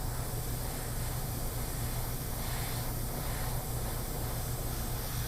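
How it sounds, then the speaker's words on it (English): Gray spray paint hisses from a can in a continuous, steady spray, close and even in level for several seconds with no talk over it. "just a little bit of gray on this, a little bit of spray"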